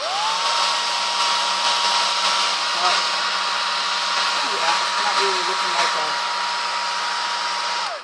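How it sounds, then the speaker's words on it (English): A hair dryer blows steadily at close range over alcohol ink painting, with a constant whirring hiss and low hum, while someone speaks briefly over it. "Sorry, talking over the hairdryer again."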